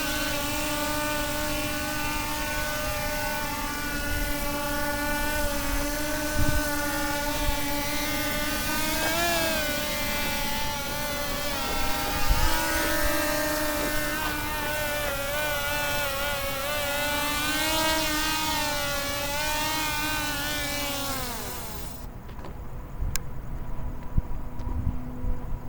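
A homemade XK X350 quadcopter drone, fitted to a 250 LED frame, flies with a loud continuous whine of propellers and motors, its pitch wavering and rising as it maneuvers, before cutting off abruptly near the end.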